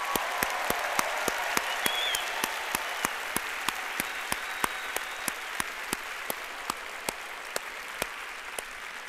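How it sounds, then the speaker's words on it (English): A large commencement audience at a spring university graduation ceremony applauds steadily for the graduates, a dense wash of clapping heard from a distance under a hall's reverberation, punctuated by regular sharp clicks. "let's start with a round of applause to honor and congratulate all of today's"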